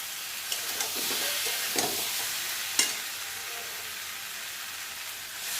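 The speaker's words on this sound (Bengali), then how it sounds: "দেখুন মশলার গা দিয়ে তেল ছেড়ে এসছে, আর একটু কষাবো।" Spice masala sautés in oil with a soft, steady sizzle at moderate distance. A few faint scrapes and clinks of stirring sound over it.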